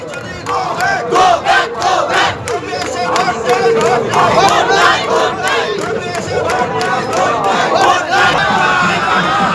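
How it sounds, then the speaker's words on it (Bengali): A loud crowd of party workers chants political slogans at a street campaign in Baharampur, the rhythmic massed voices surging in pulses, with chatter mixed in. "কর্মীরা তারা দাঁড়িয়ে রয়েছেন, তারা স্লোগান দিচ্ছেন"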